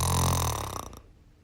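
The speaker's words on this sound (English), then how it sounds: "I record my partner snoring" A sleeping person lets out one loud, close, rumbling snore that stutters briefly and then stops, with nothing else heard.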